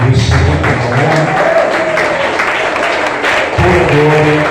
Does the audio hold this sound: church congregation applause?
yes